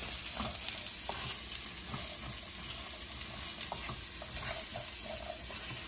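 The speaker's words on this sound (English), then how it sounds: "You're gonna mix it really well until cauliflower is completely coated with the oil." Cauliflower stirred and frying in oil in a pan for a keto khichdi, a steady close sizzle with repeated scraping and clatter from the mixing.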